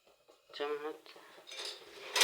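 A spoon clinks and scrapes against a cooking pot while cumin and mustard seeds are stirred for khichdi. The strokes come as a few short, close metallic rattles and rings over roughly two seconds.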